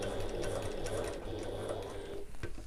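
A sewing machine runs steadily stitching an evening bag, pivoting at the corners, with a brief pause and clicks before the whir resumes; close and loud.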